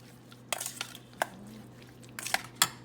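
A few scattered scraping and clinking strokes as Cajun seasoning is mixed into food in a bowl, irregular and close, with quiet gaps between the knocks.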